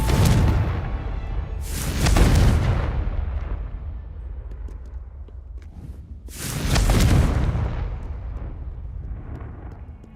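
Fiery Confringo spell blasts from the video game Hogwarts Legacy on PS5: three loud, booming explosions, one at the start, one about two seconds later and one more after a pause, each rumbling and fading out.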